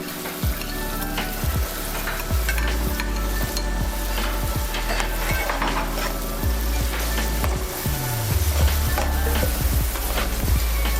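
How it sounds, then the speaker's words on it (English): Finely chopped onions sizzle steadily in hot oil while cooking for a Godavari fish curry, with repeated scraping taps of a spoon stirring through the continuous, close frying hiss. "Next, add the finely chopped onions and stir it."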